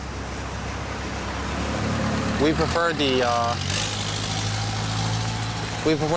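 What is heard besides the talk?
motorboat passing by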